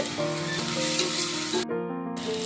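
Onions with ginger garlic paste fry in a pan for a chicken biryani, a dense, steady sizzle that is close and continuous, with a brief drop partway through before it resumes.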